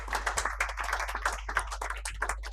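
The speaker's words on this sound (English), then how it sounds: "Kindly keep the applause going." Audience applause at a nutraceuticals summit and awards ceremony: dense, steady clapping from many hands filling the room, continuous and fairly loud without any speech over it.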